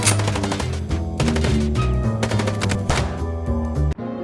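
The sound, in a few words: gunfire while shooting from a car, from video game Chicken Police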